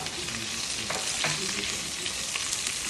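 Onion slices sauté with a pinch of salt in a hot pan, giving a steady, close, even sizzle that runs without a break and carries no talk.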